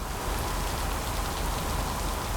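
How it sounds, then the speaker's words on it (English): Steady rain falling at a lake, a dense, even hiss of drops close by that continues unbroken throughout. "this rain's starting to get me down now"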